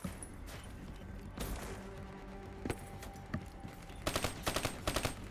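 Gunfire in Call of Duty: Black Ops 3, scattered shots building to rapid bursts of automatic fire toward the end, set against a busy game background.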